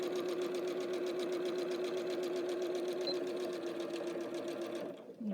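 Sewing machine running steadily as it stitches a zipper pouch, a continuous close, loud motor whir with rapid needle chatter for about five seconds before slowing at the end.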